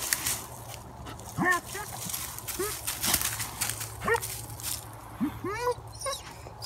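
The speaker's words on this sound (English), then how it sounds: "it's a cat and dog fight." Several dogs yelp, whimper and bark in short bursts during a cat and dog fight outdoors in the woods, heard at moderate distance over a quiet background.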